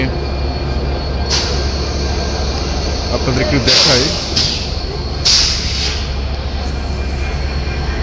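A train rumbles steadily past platforms three and four at Rajshahi railway station, with brief hissing bursts and faint squeals, while a person talks over it.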